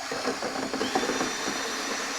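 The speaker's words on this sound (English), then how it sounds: "We got a paddle mixer and a drill." A drill fitted with a paddle mixer stirs activator and a cement-based waterproofing product in a basement, giving a steady mid-level whirring motor hum with a faint rising whine, running continuously and alone throughout.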